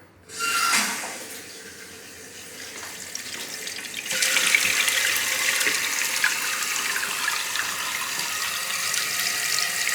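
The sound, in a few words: water filling a newly installed toilet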